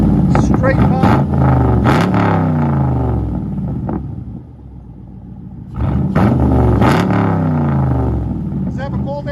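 A 2011 Chevy Camaro SS with a 6.2L V8 and true dual straight-pipe exhaust, X-pipe deleted, barks through two loud, close revs that rise and fall, with a rough idle between them.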